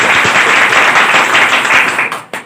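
A crowd applauds loudly at a ceremony marking the birth anniversary of Maharshi Kashyap, with dense, close clapping that holds for about two seconds before tapering off, ending in a few scattered claps.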